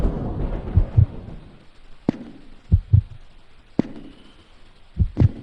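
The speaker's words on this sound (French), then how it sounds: "Ce sont des battements de cœur bien prononcés." Heavy, muffled heartbeat of a stressed character in the video game Resident Evil Code Veronica X, paired low thumps repeating slowly at a steady rhythm, with sharp crackling impacts between beats.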